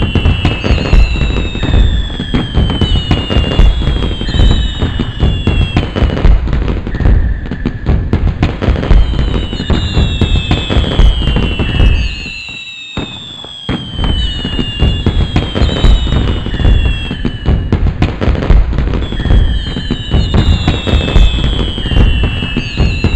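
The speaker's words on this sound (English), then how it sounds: "the fireworks began." A night fireworks display at a Scout jamboree bursts and crackles continuously for a long stretch, loud and close, with whistling rockets rising repeatedly and a brief lull partway through before the barrage resumes.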